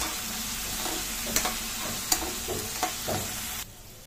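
Bitter gourd stir-fried in a pan with salt and turmeric, giving a steady close sizzle broken by several scraping stirs before the frying noise drops away near the end.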